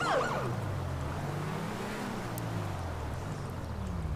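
Police car siren in GTA 5 LSPDFR, a wailing tone that sweeps up at the start and then winds low, moderately faint over a steady engine drone.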